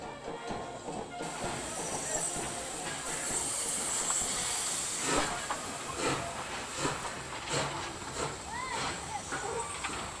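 An SNCF 141 R steam locomotive arriving at a festive station in Veynes, giving off a steady loud hiss of steam under crowd chatter and voices, with some clanking and rail noise throughout.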